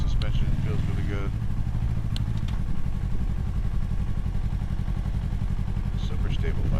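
A 2025 Yamaha R3 300cc motorcycle riding steadily, its engine droning loud and constant with wind rush, and a rider's voice heard briefly over it.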